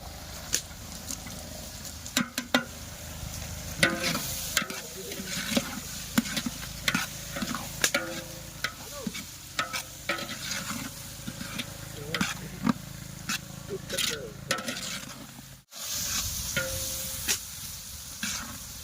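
Chopped tomatoes go into a hot pan for Girnari khichdi, giving a steady sizzle broken by repeated scraping stirs and clinks of the spoon across nearly twenty seconds.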